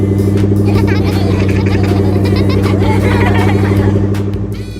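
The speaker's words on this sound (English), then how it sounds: "The bus is happily rolling along the road." A cartoon bus rolls steadily along a road, its engine a continuous loud hum with a bright, busy musical bed layered over it, fading slightly at the end.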